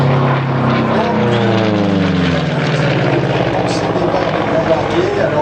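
A Curtiss propeller airplane drones steadily overhead at an air show, its engine tone loud and continuous with slowly shifting pitch, while a commentator speaks underneath.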